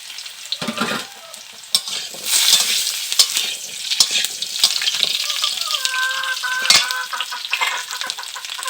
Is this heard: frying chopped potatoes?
yes